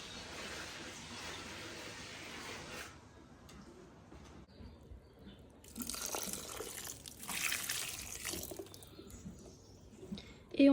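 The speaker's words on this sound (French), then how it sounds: "Hop, on rajoute 2 litres d'eau du coup." Water poured into a bucket of swelling horse feed, a soft trickling and splashing that rises in the middle and ends with a brief louder knock, heard close and fairly quiet.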